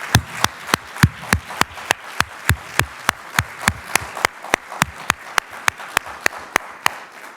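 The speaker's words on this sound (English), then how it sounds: "I want to give a big round of applause to President Armstrong and the administration." A small audience at a legal keynote claps in a sparse, steady rhythm of distinct individual claps, close and clear, with no talk over it.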